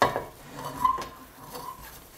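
A spoon stirs thick custard cream cheese in a frying pan, giving soft scraping and light metallic clinks at close range, with brief faint tonal scrapes.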